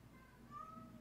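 A cat meows once, a faint, drawn-out call in the second half over a low background hum.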